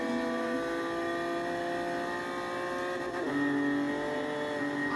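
A Honda car in Forza Horizon holds a loud, sustained engine whine while accelerating toward top speed, with a brief dip near the end as it shifts up before the pitch climbs again.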